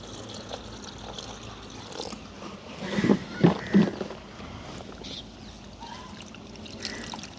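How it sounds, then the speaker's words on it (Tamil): Leafy greens are washed outdoors in a village with poured water, giving soft splashing and trickling that swells into a few louder splashes in the middle before settling back to a quiet trickle. "கழுவி எடுப்போம் கீரையை"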